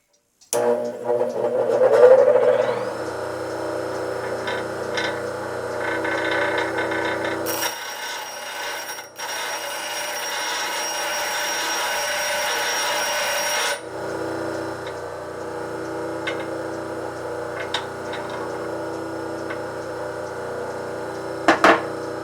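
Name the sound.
cedar being rounded over on a turning lathe chuck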